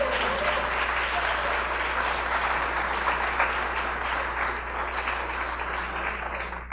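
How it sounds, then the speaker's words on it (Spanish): A church congregation applauds in a steady, dense wash of clapping that holds for several seconds with a low hum beneath it. "Dale un aplauso al Rey."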